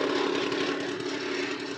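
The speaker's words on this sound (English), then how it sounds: "I've got the bike running. You have to bear with me with the rattle, so it's all the tools vibrating on the table" A Piaggio NRG MC3 scooter engine runs close by with a steady buzzing drone while tools rattle and vibrate on a table, continuous for about two seconds.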